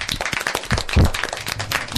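Parents and children clap together at a children's radio event, a short burst of quick, uneven hand claps close by, with one louder thump midway.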